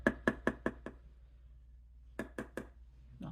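Makeup brush, a Juvia's Place contour brush loaded with powder, tapped sharply against a hard edge to knock off excess: a quick run of five close, crisp taps, a pause, then four more.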